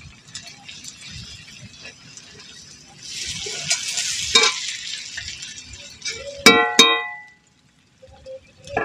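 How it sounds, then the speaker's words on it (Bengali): Onion, garlic and chopped tomato fry with Kashmiri chili powder in a pan during simple village cooking, giving a steady sizzle with stirring scrapes and a couple of sharp utensil clinks near the end; no one speaks. "পেঁয়াজ রসুন ভাজা হয়ে গেছে, টমেটো কুচি দিয়ে দিলাম"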